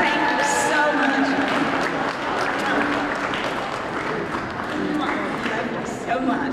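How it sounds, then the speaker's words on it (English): An audience at a fashion gala and scholarship fund event applauds, a sustained, dense round of clapping and crowd noise with some voices mixed in, steady for several seconds. "loud applause, applause"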